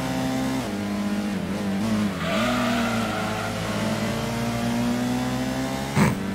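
A Corvette racing at Grand Valley Speedway in the PlayStation game Gran Turismo. The engine drones and revs with shifting pitch through gear changes, and there is a brief sharp burst near the end. No one speaks.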